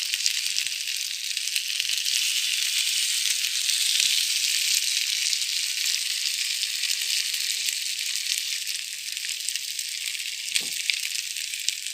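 Tandoori chicken brushed with oil and sauce sizzles steadily in a hot pan, a close, continuous frying hiss with a brief louder spatter near the end and no talking.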